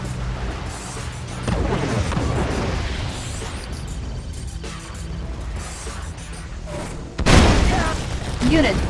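Naval units firing weapons in the strategy game Red Alert 2, a dense barrage of booming explosions and rapid blasts that roll on throughout, with a sharp louder burst near the end and game voice lines over the battle.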